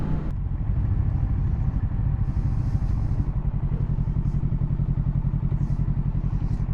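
A 2023 Kawasaki Z650 motorcycle rides along with a steady, loud engine drone heard up close, with wind rush and occasional clatter over the continuous throb.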